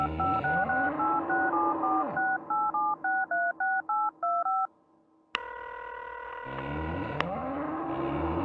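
Rapid DTMF keypad tones from a telephone dialed in the Serious Sam video game, about a dozen short beeps in an uneven rhythm. A steady tone follows, over a low engine-like hum.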